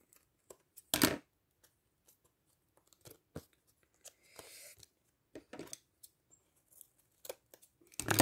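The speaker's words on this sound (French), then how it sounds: "Je coupe tout de suite, ça ne me dérange pas que ça soit pas sec." Scissors snip through material while tidying up a salvaged storage unit for Action ink, giving sparse, quiet cuts and crunches spread unevenly with gaps of near silence between them.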